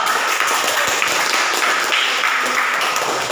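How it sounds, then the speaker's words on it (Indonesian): A classroom of students applauds a group after their presentation on procedure texts, a steady, dense wash of many hands clapping together at close range throughout. "Tepuk tangan dulu"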